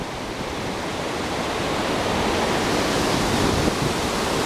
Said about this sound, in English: Stream down here.